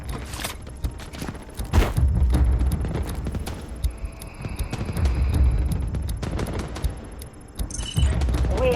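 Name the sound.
artillery barrage and gunfire in video game Delta Force Mobile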